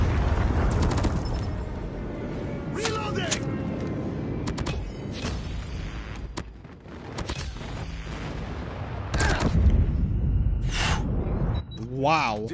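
Predator missile and airstrike explosions in Call of Duty multiplayer, a series of heavy booming blasts and gunfire bursts spread across the clip, some close and loud, with chaotic battle noise and occasional game voice callouts.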